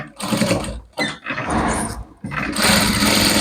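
A sewing machine stitches a pet dress, running in fast mechanical bursts that pause and restart and get louder toward the end, close and loud with no talk.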